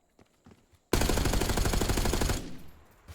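Sustained automatic gunfire from a Black Ops 6 match rattles loud and close for about a second and a half, then cuts off into quieter game ambience with a faint thump.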